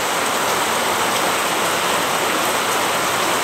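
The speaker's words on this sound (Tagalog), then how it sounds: "umuulan sa amin" Heavy rain pours down and floods a clogged drain, producing a dense, constant roar of falling and rushing water, loud and unbroken, with no voices.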